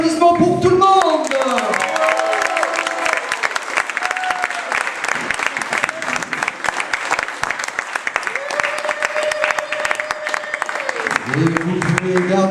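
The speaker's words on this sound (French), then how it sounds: "Un tonnerre d'applaudissements pour tout le monde." Sustained audience applause fills the room at a slam poetry tournament's first round, a dense steady wash of clapping with tonal voices and crowd noise riding over it for the whole stretch.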